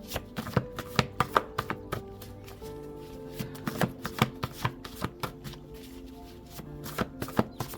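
Tarot index cards are shuffled and tapped: a run of sharp, close clicks and slaps in irregular quick bursts, over a soft sustained tonal background.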